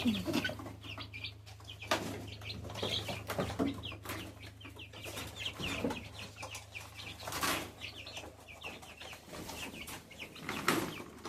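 Young chickens being moved into the main coop cluck and chirp in short, repeated bursts, with occasional wing flaps, fairly close and alone over a low steady hum.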